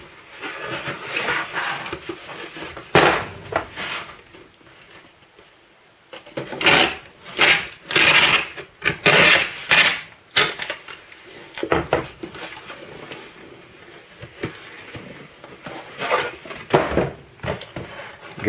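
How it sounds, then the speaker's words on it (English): Packing tape pulled and pressed across the bottom of a cardboard shipping box, loud ripping and tearing bursts mixed with scraping and handling thumps, nearby and with no talk. "So we want to tape up the bottom."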